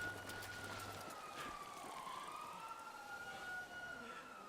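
A police car siren in the video game Grand Theft Auto V wails with a steady rising and falling tone over low car engine rumble, moderately faint and continuous.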